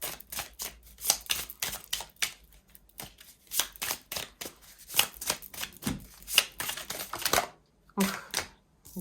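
Tarot cards are shuffled by hand, and a few slip and fall. The result is a quiet, rapid run of papery flicks, slaps and taps in an uneven rhythm.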